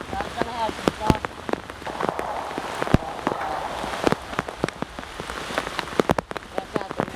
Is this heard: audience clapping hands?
no